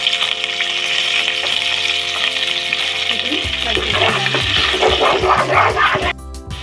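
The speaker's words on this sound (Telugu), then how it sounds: "ఇవన్నీ 1 నిమిషం పాటు ఫ్రై అయ్యాయి" Sliced onion and curry leaves fry in hot oil for a Telugu black-eyed pea curry, giving a loud, steady sizzle and crackle that grows busier partway through as the pan is stirred, with no talking.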